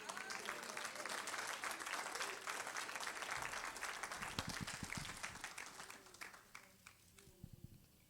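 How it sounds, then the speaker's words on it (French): A church congregation applauds in a dense, sustained wash of clapping that gradually thins out toward the end, with some faint voices mixed in. "Continue à applaudir."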